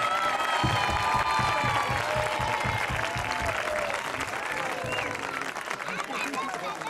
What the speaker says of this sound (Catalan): Primer aplaudiment per tots els monitors i monitores de primer a quart d'ESO